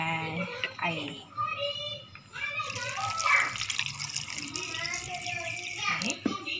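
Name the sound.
water being poured into a cooking pot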